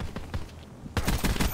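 Gunfire in a video game: a faint crackle of shots, then a louder cluster of sharp rapid reports in the second half, with a voice faintly mixed in.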